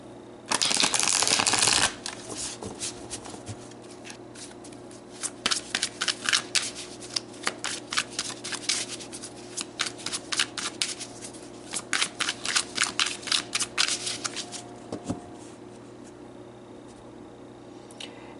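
Tarot cards are shuffled by hand, starting with a loud riffling burst, then many quick papery flicks and slaps in uneven clusters, close and clear, with no talk.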